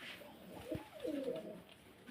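Soft pigeon cooing, a low throaty warble rising and falling once or twice against a faint background hiss.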